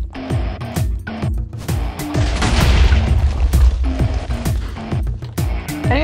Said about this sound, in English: These explosions are getting worse.